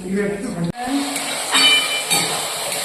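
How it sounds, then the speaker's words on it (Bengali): Chicken sizzles in a hot pan, being fried for chowmein, with a steady hiss of frying throughout and a voice briefly audible near the start. "চিকেনটা ফ্রাই হচ্ছে চাউমিনে দেওয়ার জন্য"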